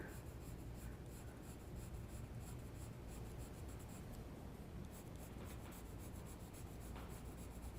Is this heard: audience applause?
no